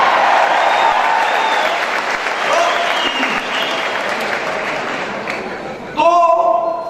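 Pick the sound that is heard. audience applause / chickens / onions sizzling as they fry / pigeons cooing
audience applause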